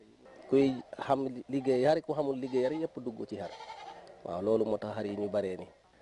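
Sheep bleat repeatedly in a livestock market ahead of Tabaski, their wavering cries mixed closely with people talking throughout.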